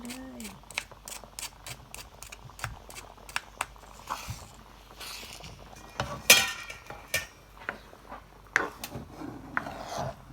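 Sago pearls tipped into a pot of melted sugar syrup and stirred give a run of quick metallic clinks and scrapes from a utensil, sharp and close, some in rapid bursts and others spaced apart.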